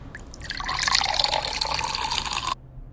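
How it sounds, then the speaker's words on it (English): Liquid pours from a mouthwash bottle, a short, soft splashing trickle that starts abruptly, runs for about two seconds and then stops cleanly against a quiet background. "So I'm just gonna pour a little bit of this."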